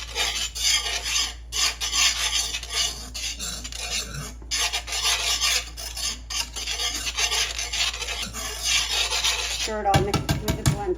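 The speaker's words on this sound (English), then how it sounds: "We're going to give it a stir again." A spoon scrapes and stirs steadily through thick pumpkin cheese sauce with Parmesan in a pot, a close, continuous rasping rub with brief pauses, ending in a few louder knocks.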